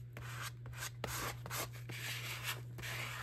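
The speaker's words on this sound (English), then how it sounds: "then I'm gonna take a little scraper" A small scraper pressed and rubbed over glued magazine paper in a collage art journal, a quiet series of short scratchy strokes in an uneven rhythm, close and alone.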